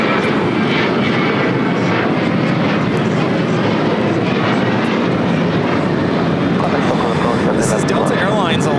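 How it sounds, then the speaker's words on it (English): A Delta Airlines Boeing 737-900ER jet roars steadily on takeoff at LAX, a dense, continuous engine rumble filling the whole clip with people talking underneath. "This is Delta Airlines 1112 taking off to New Orleans on a 737-900ER."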